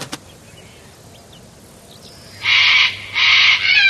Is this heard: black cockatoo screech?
yes